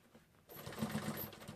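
A sewing machine stitches a seam on a drop-shoulder shirt, starting after a brief quiet moment and running steadily and close for about a second.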